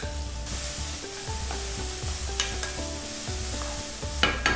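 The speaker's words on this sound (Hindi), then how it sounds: "और प्याज को थोड़ी देर भूनना है" Chopped onion with green chillies fries in oil in a pan, giving a continuous close sizzle with stirring scrapes and clinks of a spoon against the pan, no voices.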